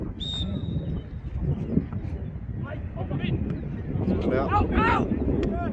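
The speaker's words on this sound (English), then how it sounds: "Wind's definitely picking up." Wind gusts across an outdoor football ground, buffeting the microphone with a loud, rumbling roar that builds toward the end. Voices and a few bird chirps come through over the rumble.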